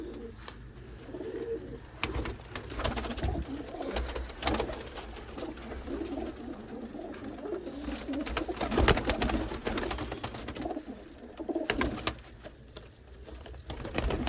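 Pigeons kept in a loft coo in soft, repeated low rolls amid a fluttery, busy background, fairly close and moderately quiet, without talk.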